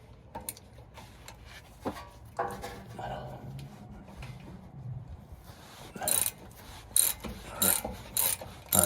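A 1/2 inch ratchet loosens the differential fill plug on a Ford F-150, giving several sharp, close clicking bursts near the end after quieter handling noises, with a person talking nearby.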